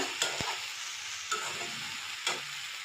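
Mustard and green chilli paste sizzles steadily in hot oil in a home kitchen pan while cooking katla fish curry, with a few sharp clinks of a spoon stirring against the vessel.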